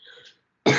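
A single sharp cough or throat-clear bursts out loudly near the mic after a short silence, following some faint murmuring.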